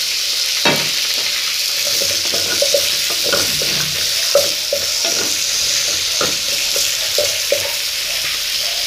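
Chopped vegetables sauté with onion in a hot pan, a steady close sizzle broken by frequent scraping stirs of a spoon, with no voices.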